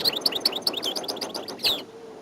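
Decoy songbirds, linnets and a goldfinch, chirp in quick, bright bursts of tweets, close and fairly loud, then fall silent at the end.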